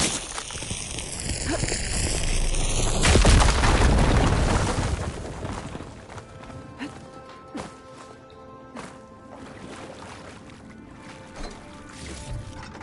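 A fire gate blown up in Horizon Forbidden West: a loud, rumbling explosion swells over a few seconds and then fades into scattered debris clatter and quieter ambience.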